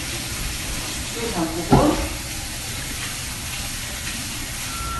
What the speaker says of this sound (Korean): 소면이 다 익었으면 찬물에 면을 헹궈서